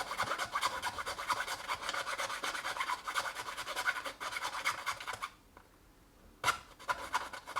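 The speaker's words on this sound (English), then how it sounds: "now with a needle file, I need to go down each one" A needle file rasps back and forth over carbon fibre skin, evening out its edges. The strokes are close and steady and run continuously for about five seconds, then stop briefly before a few more short scrapes.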